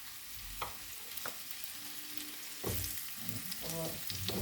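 Onions frying in a pan, a steady sizzle broken by scraping stirs and a few utensil knocks against the pan, close and moderately loud with no talk.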